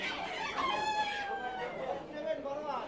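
A rooster crows at a local village market selling poultry, fish and vegetables. One loud, drawn-out call rises and then trails off, with faint voices and market bustle behind it.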